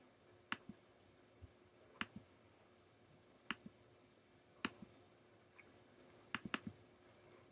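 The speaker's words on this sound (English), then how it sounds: "So I double click on the icon, say OK, then click on open exercise 4." Computer mouse clicks: sharp, crisp, isolated taps spaced irregularly, including a few quick pairs, close up against a quiet background.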